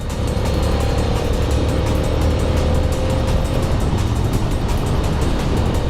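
Ducati 800 Monster S2R motorcycle engine droning steadily at close range while riding, a continuous loud hum with wind rush and no pauses.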